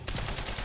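Rapid, loud automatic gunfire from the video game Quantum Break bursts in a fast stream of close shots, filling the brief moment.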